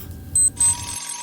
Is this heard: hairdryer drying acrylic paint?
no